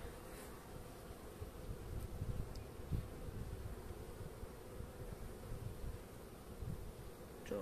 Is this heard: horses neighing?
no